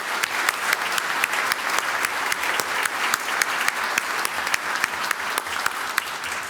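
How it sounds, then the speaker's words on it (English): An audience at a judge's swearing-in ceremony applauds loudly and steadily, with crisp individual claps repeating at an even rhythm over a full background of hands. "if we could please give all of those folks a round of applause"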